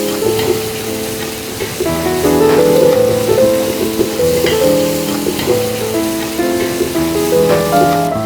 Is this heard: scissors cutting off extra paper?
no